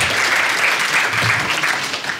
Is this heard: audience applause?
yes